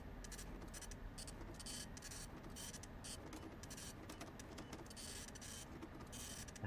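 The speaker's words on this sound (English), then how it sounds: "Printing flyers make so much noise." A printer in the video game Freddy Fazbear's Pizzeria Simulator runs flyers nonstop, a loud, steady mechanical whir with rapid ticking and clattering that continues throughout without pause.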